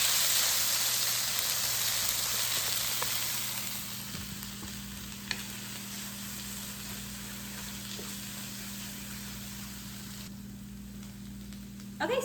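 Vegetables and garlic stir-fried with scrambled eggs in a wok for chicken pad Thai give a steady, close sizzle that softens a little partway through and continues alone without talk.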